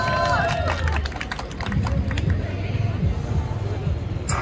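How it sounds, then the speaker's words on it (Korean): Studio audience applauds and cheers at a live K-pop stage show, a loud, dense wash of clapping and crowd noise with voices mixed in, continuous across the whole stretch. "여러분 박수!"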